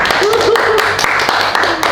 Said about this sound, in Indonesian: mau tepuk tangan lagi deh